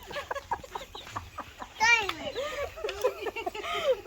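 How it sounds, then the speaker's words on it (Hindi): A hen clucking in a village yard, giving short repeated calls and a few rising squawks close by, mixed with children's voices talking in the background. "पीछे बाजी मुर्गी है।"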